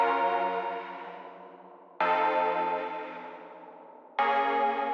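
Atmospheric retro synth chords in an R&B style, rich with sevenths, ring out in three sustained strikes, each swelling loud then slowly fading, with a soft chorused, echoing sheen.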